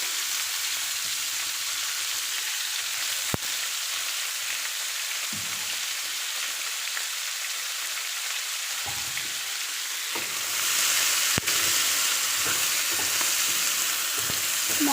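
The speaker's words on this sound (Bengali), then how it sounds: "পেঁয়াজগুলো দিয়ে দিচ্ছি" Onions frying in a pan give a steady, broadband sizzle for the whole stretch, with a few sharp clicks and brief stirring scrapes. The sizzle grows a little louder toward the end, and no one speaks.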